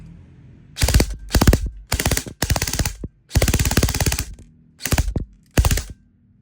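E&C 644WB MK18 airsoft rifle firing full auto in a series of about seven rapid bursts, each a tight clattering chatter of shots separated by short pauses, loud and close.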